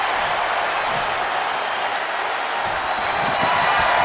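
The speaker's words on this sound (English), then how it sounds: "Listen to this crowd. What a feeling." An arena crowd in the WWE 2K25 wrestling game cheers and applauds steadily, a broad, continuous roar of clapping and shouting that holds at a constant loud level throughout.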